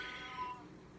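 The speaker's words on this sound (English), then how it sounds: "Sorry, that was my cat." A pet cat lets out a short, angry meow close by in a quiet room, a single brief cry that fades into low background hum.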